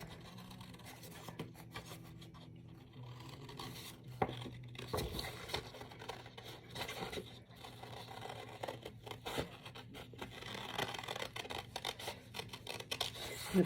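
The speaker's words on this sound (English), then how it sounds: "Just going to fussy cut these circles out because I've already drawn the actual circle on" Quiet scissors snipping paper as circles are fussy cut by hand for a crescent moon card, a faint irregular run of small cuts and rustles over a low steady hum, no voices.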